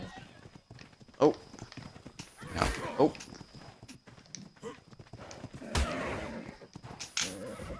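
Horses in ARK: Survival Evolved clop along in irregular bursts and let out a couple of whinnies, mid-distance in the game world, while players murmur short exclamations over the action.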